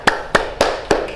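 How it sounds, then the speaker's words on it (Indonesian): During a microteaching religious studies class, four sharp hand claps land in an even rhythm, close and distinct, with only brief room decay between them and no talk. "Silakan tepuk tangan."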